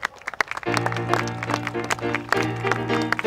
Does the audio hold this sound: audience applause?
yes